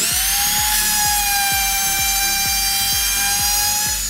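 A Bosch GKF 600 palm router with a flush-trim bit trims a melamine edge level against an MDF template, giving a loud, steady high-pitched whine with a regular pulsing beat throughout.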